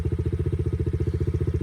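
A Yamaha TTR dirt bike engine in first gear chugs with a rapid, even, pulsing beat, a low and fairly close single-cylinder thrum that repeats steadily throughout with no talking.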